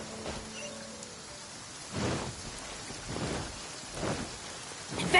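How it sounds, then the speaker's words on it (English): Rain falling in a PS4 video game, a steady hiss of rainfall with several soft rumbling swells like distant thunder rolling in every second or so. "It always rains when I go on an adventure."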